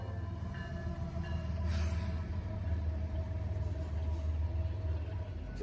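CSX 3194, an SD70ACE diesel locomotive, leads freight train Q331 toward Avon, giving a steady, loud low engine rumble with rolling rail noise throughout, no voices.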